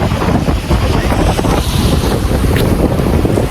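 Strong wind buffeting a microphone outdoors at a campsite on holiday produces a loud, continuous rumbling roar that masks everything else for the whole stretch.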